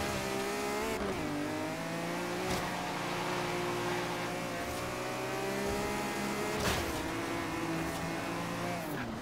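An electric BMW drives steadily in Forza Horizon 3, giving a continuous gliding motor whine that shifts slightly in pitch, with soft thumps and faint tire noise and no voices.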